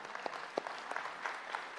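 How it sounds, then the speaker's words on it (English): Faint, distant applause from a church congregation honoring teachers, a soft spattering of claps with a few sharper hits standing out, no voices on top. "we just want to give you a round of applause"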